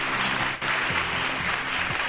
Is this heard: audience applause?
yes